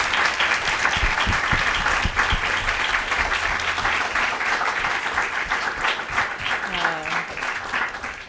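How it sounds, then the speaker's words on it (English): Sustained audience applause filling a lecture hall after a keynote talk, dense and steady clapping at moderate loudness, with some faint voices mixed in toward the end. "I think a round of applause is deserved"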